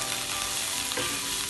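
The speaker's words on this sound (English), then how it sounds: "using the same frying pan, we add some chopped onion." Steady, dense sizzling of chopped onions frying in a hot pan while making Maggi murtabak, continuous and close, with a faint stirring scrape partway through.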